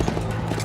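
A horse gallops in the Red Dead Redemption video game trailer, its hooves landing in a quick, steady rhythm under a dense wash of background sound.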